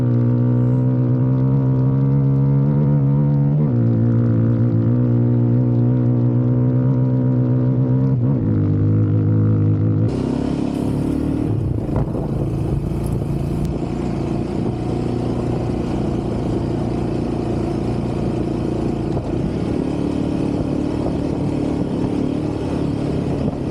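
Yamaha Raptor 700 and Honda TRX 700 ATV engines revving outdoors, loud steady idle with rising revs, then a rougher, more aggressive throttle blipping from a second engine, close and continuous.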